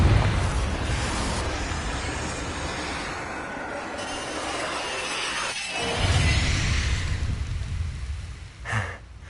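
Loud, roaring blasts and crashing debris from a Confringo blasting curse in the Hogwarts Legacy video game, with a dense rumbling wash and a sharp burst near the end.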